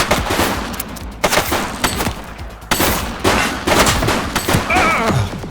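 Gunfire from a fleeing suspect in the police game The Precinct, a rapid burst of loud sharp shots and bursts of automatic fire over a few seconds, close and harsh.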